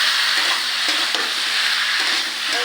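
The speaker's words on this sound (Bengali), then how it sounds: "একটু ভালো করে কষে নিই সবজিটা।" Ridge gourd and potato sautéing with turmeric, green chilli and chilli powder in a pan make a loud, continuous close sizzle, with occasional utensil scrapes and a faint steady hum beneath, and no talking.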